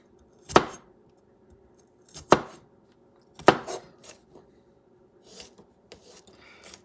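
A knife chops garlic on a cutting board with a few spaced, crisp strikes, close and fairly loud, followed by softer scraping and lighter taps.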